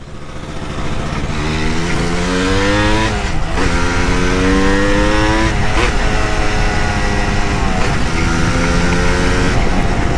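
A Yamaha DT 200 two-stroke motorcycle revs hard while being ridden, its loud nearby engine climbing in pitch through repeated gear shifts with a buzzy, crackling tone and no talking.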